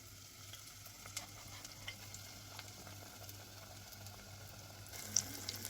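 Fritters frying in plenty of oil, a soft continuous sizzle with faint crackles and a low steady hum underneath, quiet and close, with no talking.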